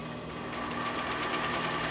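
A sewing machine stitches hair onto thread for hair reinforcing, giving a fast, steady mechanical whir with a rapid ticking rhythm, close and continuous.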